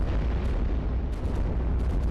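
Cannon fire booms in a World War II tower-defense game set in Germany, a dense, loud, continuous barrage of explosions with no talking.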